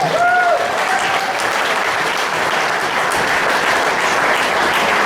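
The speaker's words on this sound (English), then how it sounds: "Give a hand to Mr. Brian Nelson" Loud, dense audience applause at a general meeting, steady clapping from a crowd that continues evenly throughout, with a brief whistle or cheer near the start.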